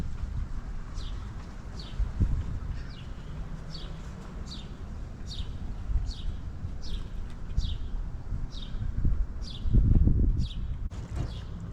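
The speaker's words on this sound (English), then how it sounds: "listening to birds in the background" A bird outdoors repeats a short, high chirp at a steady pace over a low rumble of wind.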